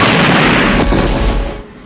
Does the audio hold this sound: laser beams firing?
yes